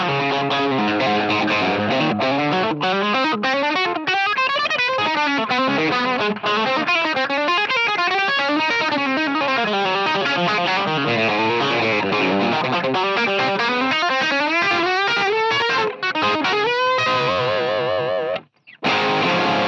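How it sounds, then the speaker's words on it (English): An electric guitar played through the overdrive effect of a Boss ME-8 multi-effects unit in stereo, with continuous distorted single-note lines and bends at a steady, loud level and no talking. "It's a really nice overdrive."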